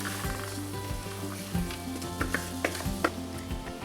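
Corn and black beans land in taco meat sizzling in a pan, giving a loud, close, steady frying hiss broken by repeated scraping stirs and clinks, with no voices.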